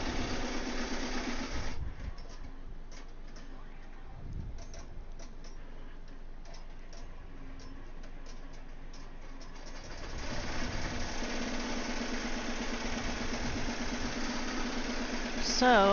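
An embroidery machine stitches a design onto a floppy beach hat, making a steady rapid ticking with repetitive mechanical clatter that fades to a quieter background hum partway through.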